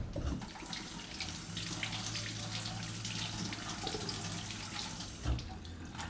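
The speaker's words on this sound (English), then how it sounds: "we'll rinse them by hand real quick." Tap water runs steadily into a sink while vegetables are rinsed by hand beneath it, a continuous close splashing hiss with small shifts as the produce moves under the stream.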